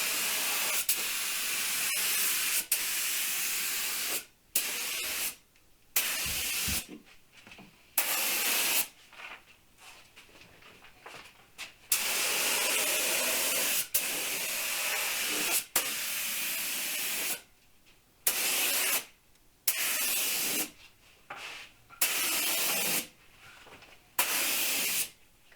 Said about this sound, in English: Now here I'm spraying my pre-cat lacquer, and I'll be putting 3 coats